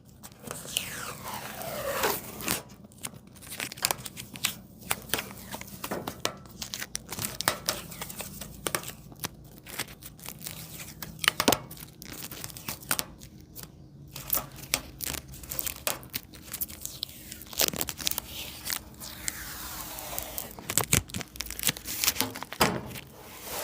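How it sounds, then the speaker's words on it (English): Plastic protective film being peeled off a Newport Explorer propane fireplace, giving close, loud crinkling and tearing rasps in irregular bursts across the whole stretch, with no talk. "So these things you peel."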